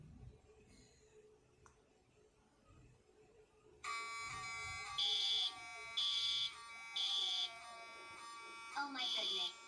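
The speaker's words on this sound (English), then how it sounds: "The fire alarm is going off." A fire alarm in a house starts abruptly partway through and blares loudly with a steady electronic buzz, pulsing in regular beeps, after quieter background sounds.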